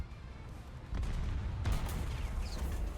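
Tank cannon fire from an ISU-152 in the War Thunder video game: a heavy boom near one second followed by a second blast, with rumbling low-end battle noise continuing loudly afterward, no talking.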